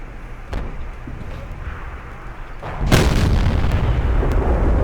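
Tank gun firing in the World of Tanks game from a T28 Prototype tank destroyer, one sharp loud boom near the middle followed by a sustained rumble over steady engine noise.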